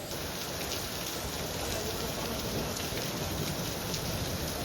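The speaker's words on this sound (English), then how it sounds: "There's so much rain happening." Heavy rain pours steadily outdoors beside a pool, a dense, continuous hiss of drops hitting water and surfaces with no pauses.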